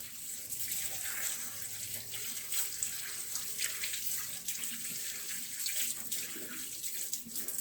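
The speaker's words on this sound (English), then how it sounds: "Give it a thorough wash" Running tap water splashes steadily over leafy greens being washed in a sink, a close, continuous gushing with slight fluctuations as the leaves are moved under the stream.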